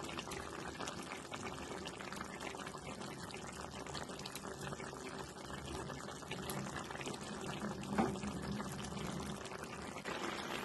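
Koi fish slip into a pot of boiling water for a cabbage and koi fish curry, with a steady, close rush of bubbling and pouring liquid throughout and a slight swell near the end.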